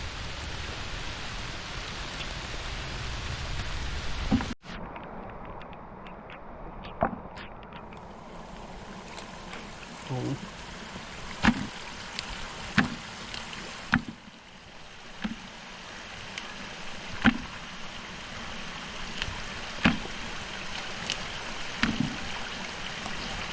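Heavy rain falling outdoors over a vegetable field of eggplant and chili, a steady dense patter with scattered louder drops nearby, continuous throughout with no talk.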